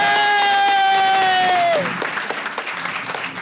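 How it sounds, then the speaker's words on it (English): Audience at a school board meeting applauding a visiting drum line, the clapping under a sustained held tone that bends down and fades, then scattered claps continue more quietly. "give them one more round of applause."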